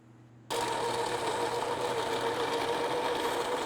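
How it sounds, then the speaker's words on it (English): A coffee grinder grinding whole beans to a coarse French press grind starts abruptly after a brief quiet hum, then whirs loudly and steadily with a constant motor whine. "we put them into the grinder and grind them"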